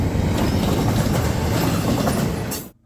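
Norfolk Southern intermodal freight train on the D&H line rolling past close by, a loud steady rumble with rhythmic wheel clatter throughout that cuts off abruptly at the end.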